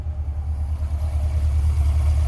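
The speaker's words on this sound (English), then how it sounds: "you'll hear these same accessory noises, but the problem is that now these accessory noises are being put right behind you" Steady mid-low mechanical whir and hum from the accessories of a 2020 Chevrolet Corvette C8, running continuously with a slight pulsing rhythm, heard up close without talking.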